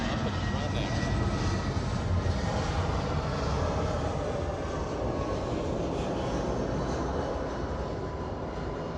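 Avianca airliner flying past at LAX, a steady broadband jet roar that holds loud and even throughout with slight fading toward the end, no distinct talk over it.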